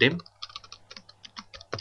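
Someone types the DIMSCALE command into AutoCAD on a computer keyboard, a quick run of light, irregular key clicks after a brief voice at the start.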